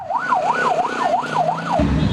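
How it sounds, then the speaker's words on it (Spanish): An ambulance siren wails in a steady rising-and-falling cycle as ambulances carry the wounded out of a prison after a clash. It is loud and continuous with no talk, and a low rumble joins near the end. "Las ambulancias empezaron a salir con heridos."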